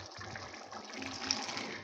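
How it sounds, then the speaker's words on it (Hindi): Chickpeas and their cooking water are poured into a pan of lentil and spice gravy, giving a soft splashing gush of liquid that is quiet and continuous. "चनों के साथ जो थोड़ा सा पानी था वो भी इसके साथ ही मैं ऐड कर दूंगी"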